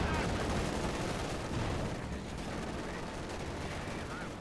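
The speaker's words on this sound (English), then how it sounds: "Artillery called in right next to the edge here." Artillery barrages in the real-time strategy game Company of Heroes 2, a dense rumble of overlapping distant blasts and gunfire rolling steadily throughout.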